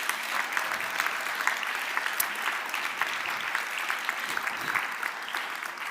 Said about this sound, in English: Edgar, can we give him a very, very big round of applause?